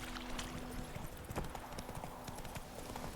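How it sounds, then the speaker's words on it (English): Hooves clip-clop steadily in The Witcher 3: Wild Hunt video game as a horse walks along at an even pace, quiet and continuous with no talk over it. "My horse's name is Roach."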